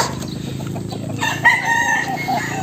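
A rooster crows amid a flock of game fowl, the call rising about halfway through over a constant background of clucking and farmyard noise; no one speaks.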